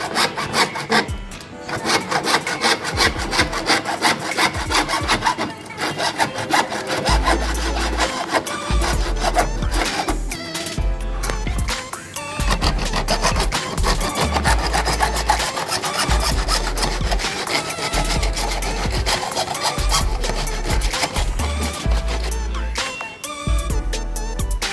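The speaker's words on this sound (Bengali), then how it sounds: "দেখতে পাচ্ছেন 4 ইঞ্চি পাইপ আমরা কেটে নিচ্ছি 4 ফুট মতো" Hand saw cutting through a 4-inch GI pipe for a PVC fitting job: continuous loud, rasping back-and-forth strokes, rough and steady across the whole stretch, close up with no voices.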